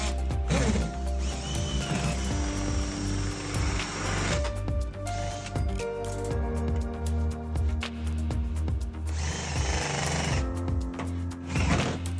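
A power drill bores a hole straight through a door to fit a digital smart door lock, a steady loud mechanical whine with grinding and rattling that runs continuously for about twelve seconds, briefly easing in the middle.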